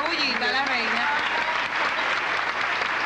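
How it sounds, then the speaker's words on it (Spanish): An audience bursts into steady, dense applause for the queen at a comedy show, with a voice briefly heard over the clapping at the start. "Un aplauso, una bullita a la reina."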